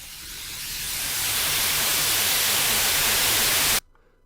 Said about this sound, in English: Because who needs to use actual true white noise when you can prompt a model for white noise?